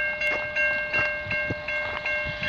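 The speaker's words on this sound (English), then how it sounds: "we got a westbound CN train coming" A westbound CN freight train approaches at a railway crossing at Lower Base Road in Milton, Ontario, early in the morning. A steady rail rumble carries a sustained tonal ring, like crossing bells or a distant horn, with rhythmic pulses and no talk.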